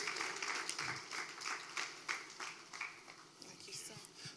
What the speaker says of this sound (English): Please let us do well to clap for him until he gets to the stage